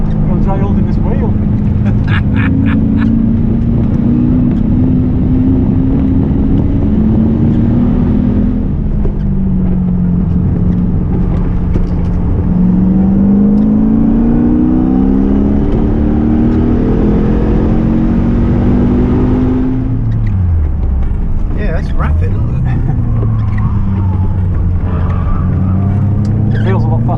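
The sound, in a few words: Lotus car with Lexus V8 engine accelerating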